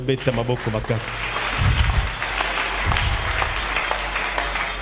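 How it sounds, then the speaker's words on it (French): A church congregation bursts into loud, sustained applause during a sermon, the clapping rising quickly after a brief spoken voice and filling the room. "Acclamons très fort"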